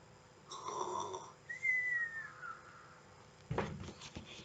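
A storyteller reading The Gruffalo aloud imitates the Gruffalo snoring, producing a few drawn-out breathy snores with a whistling rasp, spaced out and close to the microphone, followed by a short noisy burst near the end.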